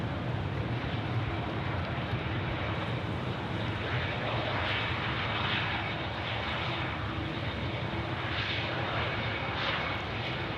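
An aircraft at Sydney Airport roars close by with a loud, broad, steady jet-engine rush that swells slightly as it passes, with no talk over it.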